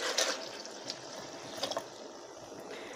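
Homemade Iban rice wine (tuak, also called air tapai) from Sarawak is poured into a jug, giving a steady close trickling and splashing of liquid that runs throughout with no talking.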